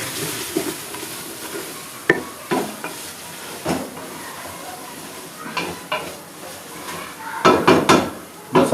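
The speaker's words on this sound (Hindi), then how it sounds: "ये जी तमाम साबुत गरम मसाले हमने अदरक लहसुन के साथ ही भूनने हैं।" Whole garam masala spices, including black and white cumin, fry with ginger and garlic for a mutton white biryani, giving a soft sizzle with intermittent scraping stirs of a spoon against the pot and a brief clatter near the end.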